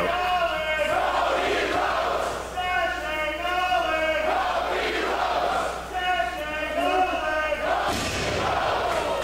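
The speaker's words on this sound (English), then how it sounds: "You could just hear what a great time this crowd is having." A wrestling crowd at a Battle Arts show chants and cheers in loud, rhythmic waves of many voices, the chant repeating steadily throughout.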